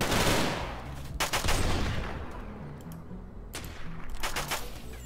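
Rapid bursts of gunfire from a RimWorld armed assault battle, sharp volleys and fusillades crackling loudly in several clusters with brief lulls between them, no talking.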